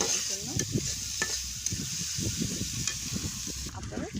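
Sliced onions frying in a pan for a Bengali-style beef liver bhuna, with a steady close sizzle broken by repeated scraping stirs of a spatula throughout.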